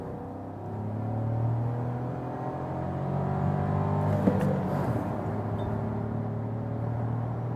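A 2021 Audi Q2, Audi's smallest SUV, accelerating from 50 to 100 km/h, heard from inside as a steady, moderately loud engine drone with rising tone and road rumble, with no talking.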